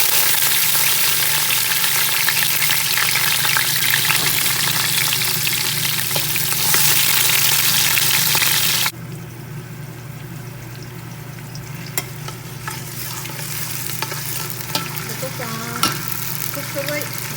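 Oil sizzles and spatters loudly in a pot on the fire while cow kidney is stirred and fried. The frying is steady, then drops to a softer hiss with occasional clinks of stirring.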